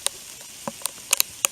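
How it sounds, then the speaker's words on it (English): Freezing rain during a nighttime ice and snow storm in South Carolina: sparse, sharp little ticks and pattering clicks landing at irregular intervals over a quiet background. "that's pretty much freezing rain"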